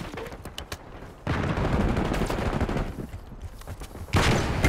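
Call of Duty gunfire crackles in rapid bursts of shots, with short gaps followed by sustained, loud volleys of automatic fire near the listener.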